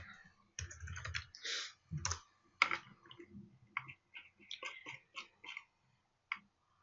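Typing on a computer keyboard: irregular clusters of close, crisp key clicks in short bursts with brief pauses between them, heard alone in a quiet room.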